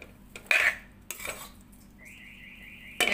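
A metal spoon stirring aloo gobi, cauliflower and potato sabzi, in a pan: a few sharp close scrapes and clinks against the metal, with a faint hiss of cooking between them.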